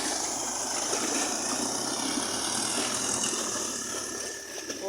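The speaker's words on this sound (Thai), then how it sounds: "นานๆทีก็มีเข้ามาบ้างนะเรือหางยาวกรุงเทพเนี่ย" A Bangkok long-tail boat engine drones steadily at mid distance, a continuous buzzing mechanical hum with faint rattling that holds level before dipping slightly near the end, with no talk.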